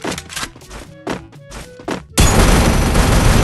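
Gunfire in the Free Fire battle royale video game: a string of sharp, punchy shots and thuds, then a sudden loud, sustained blast of noise that fills the last second.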